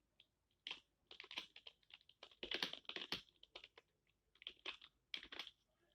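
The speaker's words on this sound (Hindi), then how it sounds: "तो हम टाइपिंग शुरू करते हैं इसमें।" Computer keyboard typing during a Hindi typing test, irregular bursts of crisp clicking keystrokes with short pauses, close and fairly quiet.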